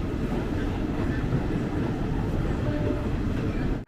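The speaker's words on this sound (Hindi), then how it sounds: "हमारी ट्रेन पहुंच गई है दोस्तों आसनसोल जंक्शन पे। अब प्लेटफॉर्म नंबर 5 पे आई है हमारी ट्रेन।" The Ballia Sealdah Express pulling into platform 5 at Asansol Junction, a loud steady rumble of rolling rail cars with faint wheel clatter close by, ending abruptly.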